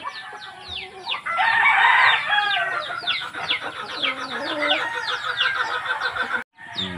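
Chickens cluck and squawk continuously nearby, with a rooster crowing briefly amid a busy flock; a short gap near the end.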